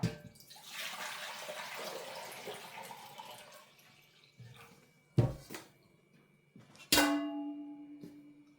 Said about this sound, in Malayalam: തിളപ്പിച്ചാറിയ മൂന്ന് ലിറ്റർ വെള്ളം നമുക്ക് ഇതിലോട്ട് ഒഴിച്ചു കൊടുക്കാം